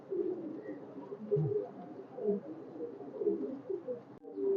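Low, soft coos from red-necked highflyer pigeons at a pigeon farm repeat in a steady, overlapping stream, close by with no voices.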